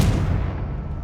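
Confringo blasting spell cast in the Hogwarts Legacy video game, a single loud booming blast that rolls off into a low rumbling decay, alone without talk.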